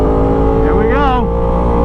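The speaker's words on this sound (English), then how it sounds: "Oh, spun some tire." A 2016 Yamaha R1 motorcycle accelerating hard and spinning its rear tire: a loud, steady engine drone close by, with a brief rising-then-falling pitch sweep near the middle as the revs surge.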